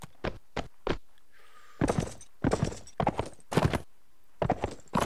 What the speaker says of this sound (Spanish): Mientras que el caballo coge velocidad o no.